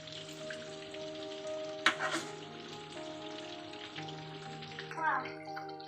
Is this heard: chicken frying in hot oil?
yes